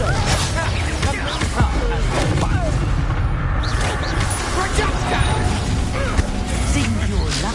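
Confringo fire spell cast in the video game Hogwarts Legacy, heard as dense, booming blasts and impacts amid constant battle noise, with voices and combat sounds layered over a loud, busy mix.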